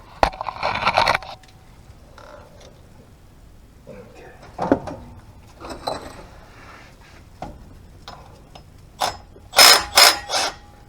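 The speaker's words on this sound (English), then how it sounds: "So let's get this flywheel off of here." Hand tools clank and rattle against metal while a flywheel is removed during clutch work on a Chevrolet S10. The sounds come as intermittent close knocks and a burst of sharp metallic clatter near the end.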